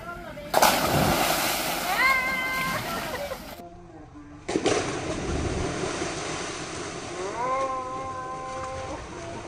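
People plunge into a swimming pool in two big bursts of splashing, each a loud crash of water followed by churning and dripping, with voices and shouts mixed in around them.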